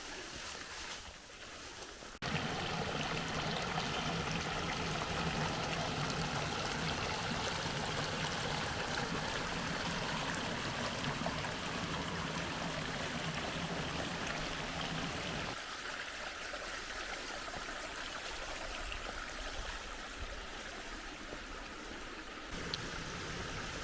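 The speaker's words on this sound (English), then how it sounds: "This nice little creek here." A small creek flows along an ultralight river hike, a steady, close, rushing trickle of water that runs continuously and softens slightly toward the end.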